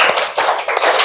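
A class of schoolchildren claps together in a rhythmic counted pattern, with several loud, close, slightly ragged bursts in quick succession and no talking.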